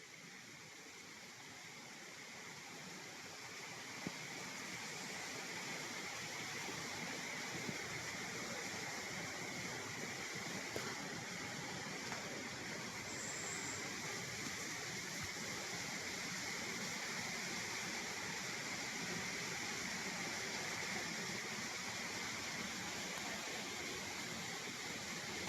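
Steady broadband rushing of a flowing river on a farm lot fills the whole stretch, constant and fairly close, with no voices over it.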